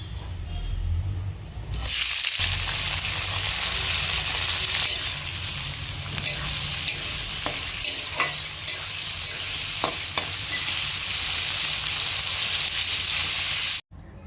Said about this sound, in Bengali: মা দুটো বড় সাইজের পেঁয়াজ কুচো করে নিয়েছে, এবার এটা দিয়ে দেবে তেলে